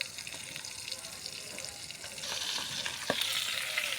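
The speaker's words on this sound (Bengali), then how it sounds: "মাছটা ভাজা হচ্ছে, খুব বেশি জোরে জাল দেবে না, মাছটা ভীষণ ফোটে।" Fish sizzles in hot oil in a pan, a steady crackling hiss that grows louder and busier partway through, with a sharp pop near the end.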